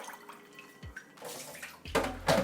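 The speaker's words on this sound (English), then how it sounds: "here we have a bowl of ice, to which we'll add some cold water" Cold water pours into a bowl of ice to make an ice bath for Instant Pot boiled eggs, a soft splash rising to louder gushing bursts near the end, with clinks over a quiet room.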